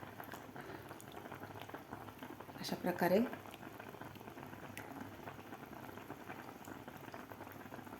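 Shengole, dumplings made from colocasia leaves, bubbling in a pot of liquid over a medium flame, a soft steady simmer with a brief louder burst of bubbling partway through, under a short stretch of speech.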